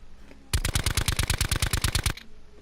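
An automatic rifle in Call of Duty Blackout fires one rapid burst of about fifteen evenly spaced shots, loud and close. It lasts under two seconds and is bracketed by quiet game ambience.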